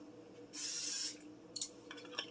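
A single hiss from an aerosol cooking spray lasting about half a second, followed by a few soft clinks and small kitchen sounds.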